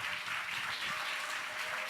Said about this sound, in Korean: 우리 박수로 힘있게 목사님.